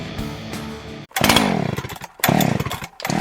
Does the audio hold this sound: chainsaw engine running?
yes